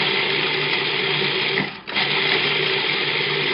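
Food processor pulsing sugar to grind a pie crust, a loud steady whirring motor drone that briefly dips and cuts out for a moment before whirring again, close up with no talking.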